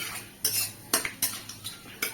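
A utensil clinks and scrapes repeatedly against a pan as panch phoron spices with fenugreek are stirred, several sharp metallic taps over a faint sizzle, no talking.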